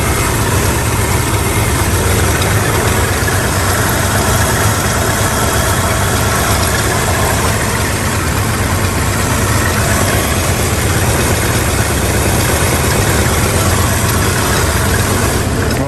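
An original C-code classic muscle car engine idles loud and close, a steady low rumble with a constant throb that holds unchanged throughout, with no voices over it.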